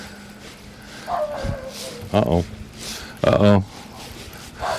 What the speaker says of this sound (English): Guard dog on duty.